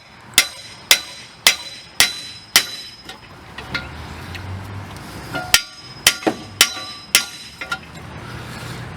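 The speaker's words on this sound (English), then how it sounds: "Could use a bigger hammer." Sharp metal hammer blows strike a Toyota Camry front wheel hub during a wheel bearing replacement, a steady series of loud ringing clangs with a brief pause midway before the strikes resume.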